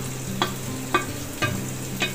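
A medium onion added to mustard seeds frying in a pan, with a steady sizzle under four evenly spaced stirring scrapes and taps against the pan, close and alone without speech.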